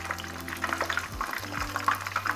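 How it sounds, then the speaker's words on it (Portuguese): Battered tempura shrimp fry in hot oil, giving a soft, steady bubbling crackle at low volume, with faint low tones underneath. "Vamos virando os ladinhos para ele fritar todos os lados dele."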